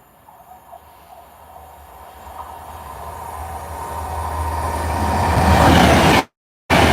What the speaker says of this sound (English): I've got a Pendolino coming.